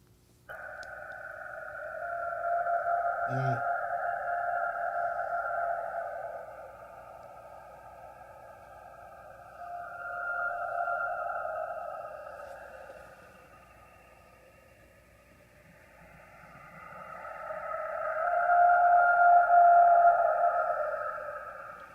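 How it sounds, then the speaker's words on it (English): Long, drawn-out wailing cries echo from a distance, rising and falling in several sustained calls over a quiet background, with a single sharp knock early on. "5 long screams, possible Sasquatch"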